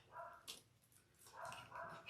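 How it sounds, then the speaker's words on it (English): Dog barking outside, heard from indoors: two faint clusters of short barks separated by a pause, distant and muffled, with no talking. "Listen to that dog. Can you believe it?"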